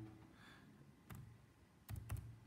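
Keystrokes on a computer keyboard, a few quiet taps followed by a short cluster of clicks near the end, faint against a low room hum.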